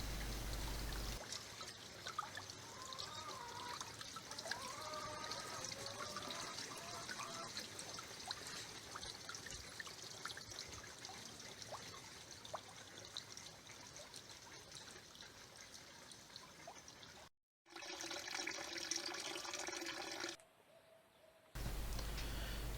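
Steady trickling water runs through the stone-lined well and pump well of a handmade gear-driven windmill model's closed circuit, a continuous close pour for most of the length, broken by a brief silence and a short louder burst near the end.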